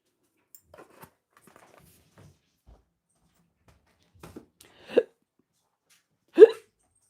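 A person hiccups twice in close succession, short sharp bursts near the microphone after a stretch of faint small clicks and near silence.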